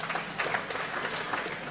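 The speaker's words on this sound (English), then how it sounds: "Stephanie Hines, round of applause." Audience applause at an awards ceremony, a faint, distant, continuous patter of clapping from the crowd.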